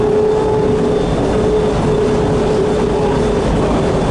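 An automated airport train at DFW Airport moves quickly, giving a loud, steady rumbling ride noise with a faint constant whine, heard from inside the car without talking.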